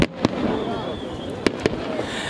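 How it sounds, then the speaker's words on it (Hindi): New Year fireworks bursting in sharp cracks over Moscow, a few distinct bangs over a constant roar of crowd and distant booms. "ये आतिशबाजी होती है"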